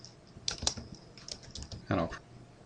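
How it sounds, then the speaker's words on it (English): Quick bursts of typing on a computer keyboard while entering a name into a spreadsheet cell, a handful of crisp close key taps followed by a heavier clatter near the end, with no talk over it. "go to B6 and type in Aurelius Vicky."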